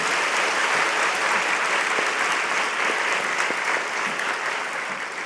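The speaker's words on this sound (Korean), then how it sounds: "박수 한번 쳐줘야겠죠" A church congregation at a Friday night worship service claps together in a full, sustained round that holds steady and then tapers slightly toward the close.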